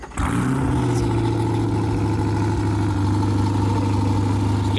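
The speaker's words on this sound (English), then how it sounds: "This exhaust to me sounds like shit in quiet mode." Chevrolet C8 Corvette with a Milltek exhaust idling in quiet mode on a cold, rainy start: a steady, even low drone that holds close and constant throughout, with no revving.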